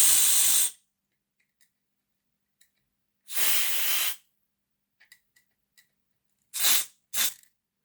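Spray cleaner squirted onto a Bachmann Class 03 model locomotive chassis: three bursts of close, loud hissing, one long, a second longer one, then two quick short squirts, with faint clicks between.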